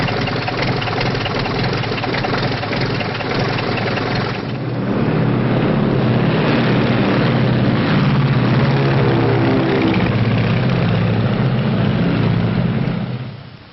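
A vintage propeller aircraft engine idles steadily on the ground before takeoff, a loud continuous drone that thickens into a heavier, throatier rumble partway through and holds until it cuts off at the end.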